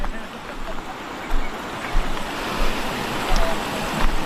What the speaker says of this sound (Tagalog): Ang lakas na ng tubig